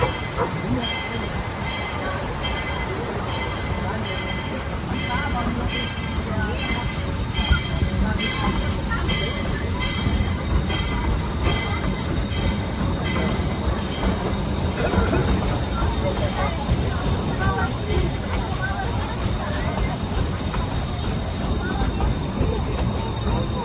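A tourist train pulls out of Silver Plume station in Colorado, bound for Georgetown, with a steady rolling rumble and wheel clatter that holds for the whole stretch. A loudspeaker voice narrates over the noise.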